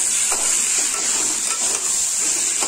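Boiled potato pieces fry with masala in a pan, giving a steady loud sizzle with soft scraping as they are stirred, close by and without talk.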